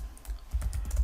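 Keys on a computer keyboard tapped in a short quick burst of light clicks, close and fairly quiet, with no talking.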